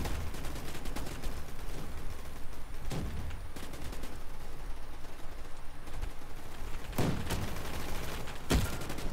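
A G11 rifle fires in a video game, with rapid bursts of gunfire repeating across the clip and a couple of sharper, louder shots near the end.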